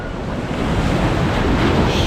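On an empty beach in Budva, Montenegro, waves wash in under gusting wind that buffets the microphone. Surf and wind form a loud, close, continuous rush with no voices.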